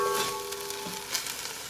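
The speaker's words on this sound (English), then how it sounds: "I'm gonna continue to saute these ingredients for about 3 to 4 minutes." Tomatoes and other ingredients sautéing in a pan for a Mexican albóndigas broth, a soft steady sizzle with faint crackles, close and quiet, with no talking.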